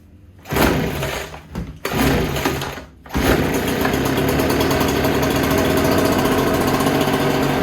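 A Ryobi BP42 backpack leaf blower's two-stroke engine catches after a short sputtering start, then settles into a steady, loud, buzzing run close by with no talking.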